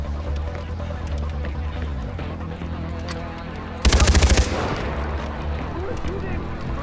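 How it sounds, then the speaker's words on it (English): Far Cry 4 gunfire: a sudden loud burst of rapid automatic shots lasting about half a second, standing out against a steady bed of game ambience and background noise. "Who is shooting?!"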